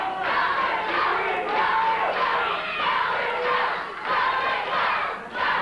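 Fans packed into a 1990 USWA/CWA wrestling arena chant together in a steady, repeating rhythm, loud and close, each phrase surging and then dropping briefly before the next.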